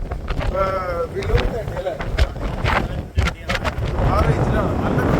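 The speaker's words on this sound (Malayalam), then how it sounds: "ദുഃഖത്ത് നല്ല കാറ്റാണ്, നല്ല കാറ്റ്, അടിപൊളി കാറ്റ്." Strong wind gusts buffet the microphone at Duqm, Oman, a steady rushing roar that continues while someone talks over it.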